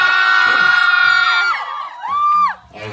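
A cinema audience cheers loudly for a film's stage greeting at CGV in Daegu, with high whoops and shouts sustained at first, then a final rising yell before fading.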